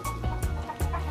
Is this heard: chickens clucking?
yes